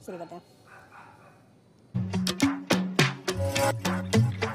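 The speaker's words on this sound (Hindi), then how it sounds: "कुत्ते भौंक रहे हैं।" Several dogs bark in a rapid, loud burst close by, breaking in after someone speaks briefly over a quiet background.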